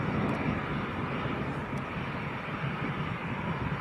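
A Ryanair jet from Dublin, a Boeing 737, is on final approach to Leeds Bradford Airport. Its broad, steady engine roar holds at even loudness throughout, heard from a distance with no talking.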